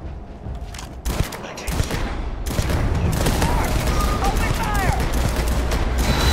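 Sustained automatic gunfire rattles in the video game Starfield, a dense fusillade of rapid shots that grows louder and continuous after a brief pause, with a voice talking over it.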